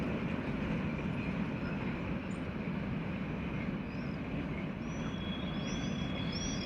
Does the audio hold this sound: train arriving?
yes